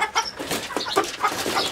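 Rooster clucking in short, close, agitated bursts while being handled on a farm, one loud call after another with no talk.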